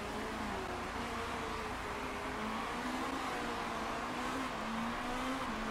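Race cars overtake in the Motorsport Manager video game, heard as a low, steady engine drone with a rising whine running underneath, quiet and continuous, with no talking.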